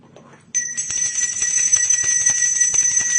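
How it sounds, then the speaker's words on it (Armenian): Bells ringing, a sustained bright metallic tone that starts abruptly after a quiet moment and rings on steadily, with faint rhythmic clanks underneath. "Զանգեր ղողանջում"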